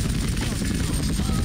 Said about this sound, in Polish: Na szczęście helikoptery można bardzo szybko wyhamować, jak sami widzicie.